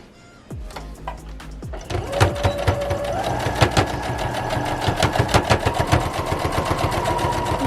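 Sewing machine stitching a fabric face mask, a fast steady run of close needle strokes starting after a brief pause and continuing loud and even to the end, with no talk.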